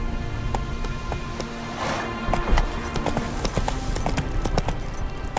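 Roach, a horse in The Witcher 3, gallops with quick, regular hoof clatter, close and steady over a soft wash of ambient game sound.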